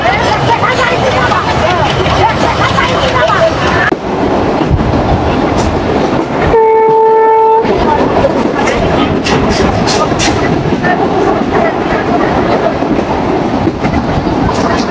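The Betna Express rumbles along the line from Khulna toward Benapole, a loud, steady roar of wheels and carriage rattle with clickety-clack beats, and a short tonal horn-like whine midway.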